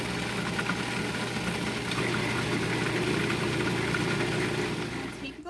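A food processor runs continuously, blending a homemade American cheese mixture until smooth, with a steady, loud motor whir and hum that holds for several seconds before starting to fade at the end.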